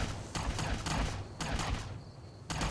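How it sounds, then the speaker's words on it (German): Gunfire in the video game Fallout: New Vegas comes as sharp, fairly faint bursts of shots in irregular clusters, with short pauses between them and no talk. "Die knallen sich da gegenseitig ab"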